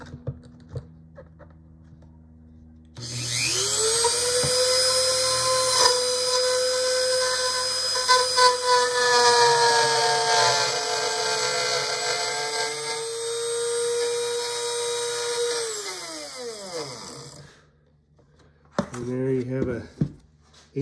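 A Dremel-based three-way binding and purfling routing machine spins up to a steady high-pitched whine, holds it for about fourteen seconds up close, then winds down. A short burst of talk follows.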